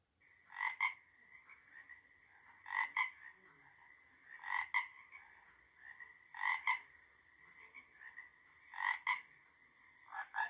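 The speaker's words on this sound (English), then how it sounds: "Frog. Frog. This is a frog." Frogs croak in a steady, repeating rhythm, paired throaty calls about every two seconds over a quiet background.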